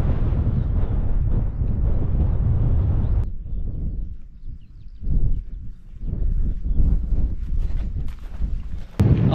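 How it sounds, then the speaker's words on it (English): Wind buffets the microphone on a mountain hike over the Lakeland Three Passes in the Lake District: a heavy, roaring rumble for the first few seconds, then lighter, uneven gusts that come and go. "it is a bit windy"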